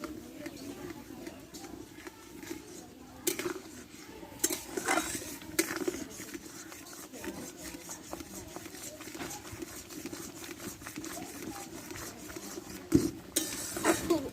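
Semolina being stirred into boiled milk in a pot to form a dough: soft, steady scraping and scattered clinks of the utensil against the pan, close and fairly quiet against a faint background.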